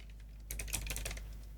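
Rapid clicking keystrokes on a computer keyboard begin partway through, a dense run of quiet taps over a low steady hum, with no talking.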